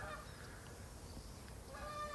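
A flock of geese honks far off outdoors, faint calls scattered over steady background noise.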